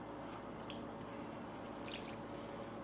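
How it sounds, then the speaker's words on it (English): Water runs off a shoe treated with waterproof coating, heard as faint, sparse drips and soft splashes, with two small clusters against a quiet background. "You see water just running off the shoe like crazy."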